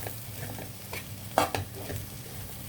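Broad beans and potato stir-fried with chili and cumin powders in a pan, giving a steady close sizzle with scraping stir strokes and one sharper clack of the spatula against the pan.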